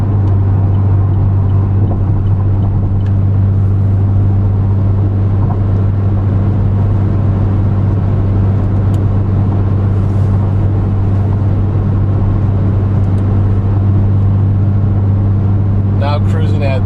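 Camaro V6 with an axle-back exhaust lugging at low RPM under fairly heavy load up a hill: a deep, steady droning exhaust rumble that holds constant and loud throughout, with a voice speaking over it.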